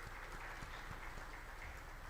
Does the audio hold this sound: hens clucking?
no